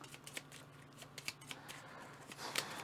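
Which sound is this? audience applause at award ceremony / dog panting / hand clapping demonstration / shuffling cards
shuffling cards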